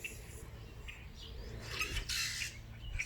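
Birds chirp outdoors near colorful-leaved plants, giving short, fairly faint tweets scattered over a low background hum, with a brighter burst of calls toward the middle.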